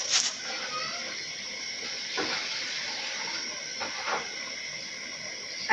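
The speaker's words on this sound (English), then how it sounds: "I am adding sufficient water to cover my stew." Water poured steadily into a pot of chicken stew, a continuous close hissing splash with slight surges in the flow.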